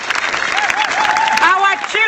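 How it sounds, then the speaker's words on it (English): A crowd at an outdoor rally at Burston Strike School claps in a spread of applause, mixed with voices and cheering over the top. "Can we clap ourselves together for everything we are doing"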